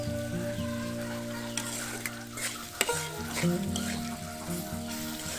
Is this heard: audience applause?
no